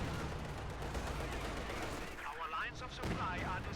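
Explosions and gunfire from a World War II strategy game crackle as a dense, continuous barrage of bursts and rumbles, with brief faint voices near the end.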